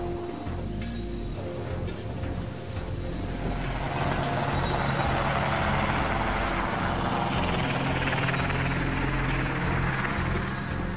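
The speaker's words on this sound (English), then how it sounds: "Cargo helicopters replenish supplies and connect ships to shore." A naval cargo helicopter's rotor and engine roar steadily, building toward the end, with a rumbling low thrum and no voices.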